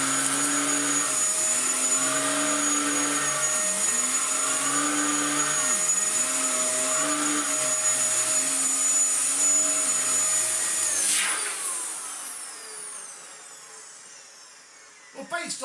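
Dyson DC07 vacuum cleaner under repair, motor running close and loud with a steady high whine and pulsing low tones, then winding down and spinning to a stop near the end.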